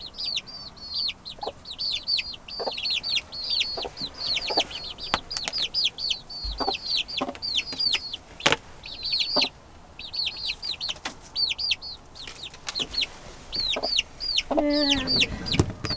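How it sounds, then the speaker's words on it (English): Baby chicks peep constantly at close range, a dense run of high chirps. Chickens cluck and make scattered knocks and scuffs among them, and a louder squawk comes near the end. "here's the baby chicks."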